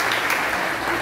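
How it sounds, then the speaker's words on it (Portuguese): Comedy show audience applauding steadily, a dense wash of many hands clapping that stays loud and even throughout with no voices on top. "Vamos aplaudir o Rio de Janeiro,"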